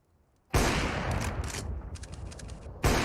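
Dense, loud bursts of automatic rifle fire from a Counter-Strike: Global Offensive esports match, a sustained volley of rapid shots for about two seconds followed by another sharp burst, heard close with no talk over it.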